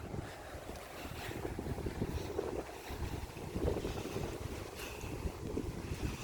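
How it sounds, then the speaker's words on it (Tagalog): Cool wind gusts across an open-air setting near water, a steady broadband rush with buffeting microphone noise and faint wave wash beneath, no speech. "Medyo malamig ang hangin"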